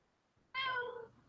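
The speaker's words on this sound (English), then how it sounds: "Oh, that's a loud cat." A domestic cat lets out one loud, drawn-out meow close by, a bright wavering cry lasting about half a second against an otherwise quiet room.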